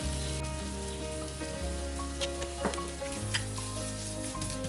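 Masala for chicken tikka biryani sizzles and fries in a pan, a steady close crackle with occasional stirring scrapes and small pops, no talking.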